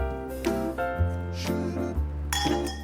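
Wine glasses filled with Spanish white wine clink together in a lunchtime toast, several bright ringing chimes in quick succession that sustain and overlap, close and clear with no talking.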